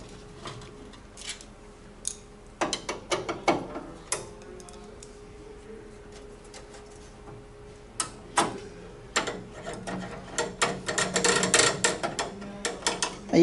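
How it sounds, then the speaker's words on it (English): Screw being reattached on a printer carriage drive motor: a steady run of small close clicks and ratcheting metallic ticks, sparse at first and then dense and busy toward the end, with no talk. "we're going to go ahead and reattach the screw."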